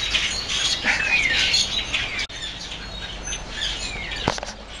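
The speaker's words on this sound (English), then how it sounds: "Oh my gosh, there's a bird." Many birds chirp and squawk up in the trees, with bright overlapping tweets and calls close by and a brief flutter near the end, with no talking.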